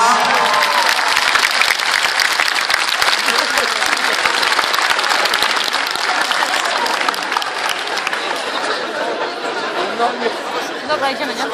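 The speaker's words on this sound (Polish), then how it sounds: "Wielkie brawa." Audience applause after a polonaise dance at a school ball, a loud, dense and sustained clapping mixed with lively crowd chatter for the whole stretch.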